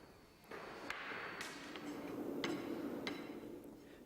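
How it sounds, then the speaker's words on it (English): A flat rammer compacting sand in the drag of a metal casting mould, a series of about eight dull thuds with sharp edges at uneven intervals over a low continuous background hum. "The last compaction of the sand in the drag is carried out using a flat rammer."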